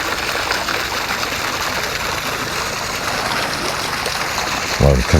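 Water pours steadily from a garden hose on a farm during morning chores, a continuous close rushing hiss with a brief low bump near the end.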